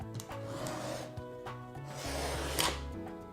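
Utility knife scoring plasterboard drywall along marked lines: faint scratchy cuts, about two longer rasping drags, heard close up amid soft handling noise.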